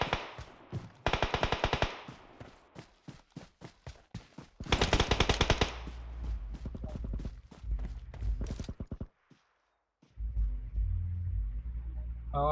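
Machine-gun fire in PUBG Mobile: rapid bursts of automatic shots alternating with pauses, loud and close, over a low engine-like rumble, with a brief silence before the rumble resumes.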